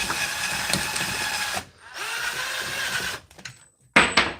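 A Draper drill converted to run on a DeWalt Flexvolt battery drives screws: two long, high whining bursts of motor spin, then a few short choppy triggers and a final brief rev, close by.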